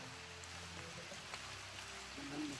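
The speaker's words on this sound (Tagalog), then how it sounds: "Hanap tayo ng pwede nating mapasilungan kasi lumakas yung ulan tol." Heavy rain pours outdoors as a soft, steady hiss and patter, fairly faint and continuous, with no voices.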